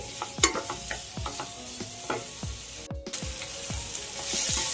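Spicy chicken dry fry, wedding-style, sizzles steadily in a pan while a spatula stirs it, tapping and scraping the metal in a quick, close, irregular rhythm with no voices.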